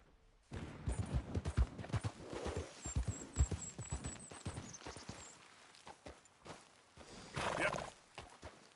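In a PS4 video game, a horse's hooves clip-clop and pound in a quick uneven rhythm, with a whinny rising near the end, all fairly close and alone without speech.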